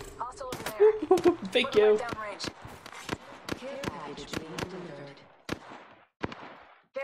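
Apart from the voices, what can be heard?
gunfire in video game Apex Legends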